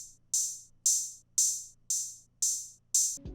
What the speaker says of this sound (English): The only thing special I do is I bring the open hat in at the end of each hook